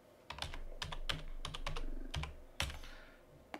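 Code is typed on a computer keyboard as a burst of close, crisp key clicks in an uneven rhythm, ending with a louder keystroke and then quiet.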